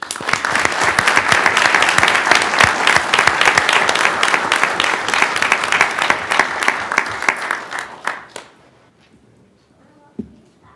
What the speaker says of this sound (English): If we could give them one more round of applause